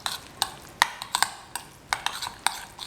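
Chipotle sauce is mixed into scrambled egg with a utensil, producing about a dozen bright metallic clinks against the bowl in a quick, uneven rhythm, close and clear with no talk.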